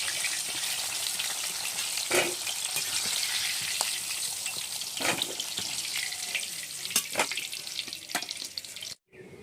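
Nigella seeds frying in oil for a fish kalia of rohu fish head, a steady sizzling hiss with scattered crackles and occasional clinks, cutting out briefly near the end.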